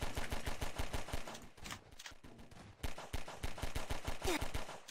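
Rapid bursts of automatic gunfire in a video game, sharp repeated shots in quick rhythm with a brief pause midway, fairly close and loud.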